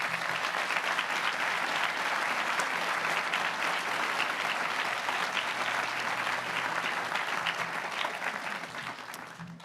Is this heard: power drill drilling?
no